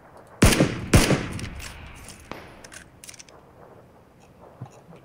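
Gunfire in PUBG: Battlegrounds, two sharp loud shots close together near the start, then a fainter crack and scattered distant pops over a quiet, low game ambience.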